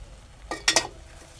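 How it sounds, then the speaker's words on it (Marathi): Spoon scraping a pan as soybean masala is stir-fried, three quick close scrapes with a light sizzle, over a quiet kitchen background. "परतून घेऊया"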